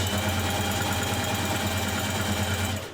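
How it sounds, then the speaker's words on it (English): A sewing machine runs a zigzag stitch around the outer edge of a dress neck facing, a steady, fast, close mechanical whirr that holds for nearly three seconds and eases off at the end. "I'm going to zigzag all the way around the outer edge, just to give it a nice finish"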